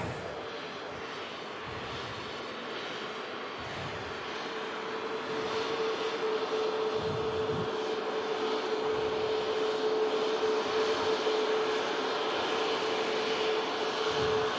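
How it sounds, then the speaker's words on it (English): A Ryanair airliner taxis off a fog-bound runway at Manchester Airport, its steady engine whine and broadband roar holding at moderate distance and swelling slightly louder midway through, with no voices. "Ryanair just vacating right in front of us."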